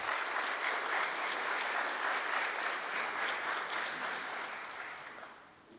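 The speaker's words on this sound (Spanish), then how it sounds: "Vamos a invitar a la maestra Bodayú con fuertes aplausos." Congregation at a Bible seminar in Paraguay applauds a soprano soloist being welcomed, a fairly faint, steady patter of many hands that gradually thins and fades toward the end.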